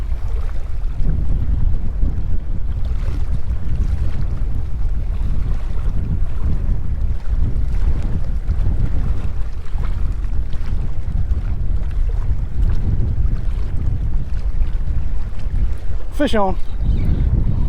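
Strong wind blows steadily over a fishing boat on a lake and makes loud rumbling buffets on the microphone for the whole stretch. A fishing reel whirs briefly near the end, and a voice speaks once.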